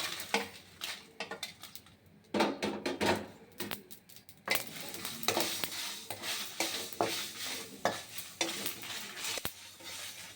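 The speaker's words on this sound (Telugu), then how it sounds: "ఆవాలు, మెంతులు వేయించుకోవాలి, మిర్చి, ఎండుమిరపకాయలు కూడా వేయించుకోవాలి." Mustard seeds, fenugreek and dried red chilies are roasted in a pan for gongura pachadi, with irregular scraping and clattering stir strokes over a faint sizzle, close and fairly quiet.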